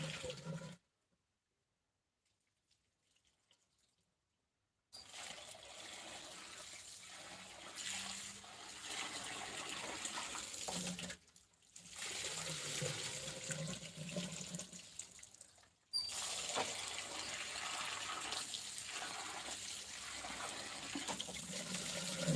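Water runs steadily from a tap, splashing into a bowl while rinsing starch from seitan dough, stopping and restarting a few times with brief silent gaps.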